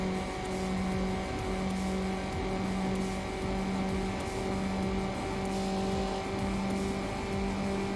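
A street car engine in Need for Speed Underground drones loudly at steady high revs during a drag run, with faint rhythmic shift blips and tire noise underneath, constant and close without any voices.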